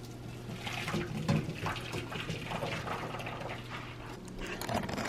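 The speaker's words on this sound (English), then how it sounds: "now I'm going to drain the pasta" Pasta water pours from a pot through a strainer in a home kitchen, a continuous splashing rush with gurgling bursts, close and fairly loud, no talking.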